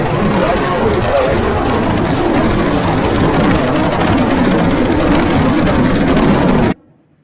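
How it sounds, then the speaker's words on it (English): Space Shuttle Discovery lifts off after booster ignition, a loud, dense broadband rocket roar that holds steady for several seconds before cutting off abruptly. "Boosting ignition and liftoff of the Space Shuttle Discovery"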